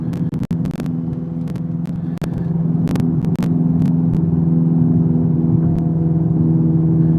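A car with a CVT transmission drones with a steady whir and low rumble that holds an even pitch with no shifts, close and continuous, with a few brief clicks early on.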